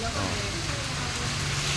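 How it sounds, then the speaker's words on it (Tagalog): Heavy rain falling steadily during a drive in a brand-new Mitsubishi L300 van, a dense continuous hiss of drops drumming on the vehicle, loud and unbroken throughout. "Medyo kalakasan ng ulan pero banat lang"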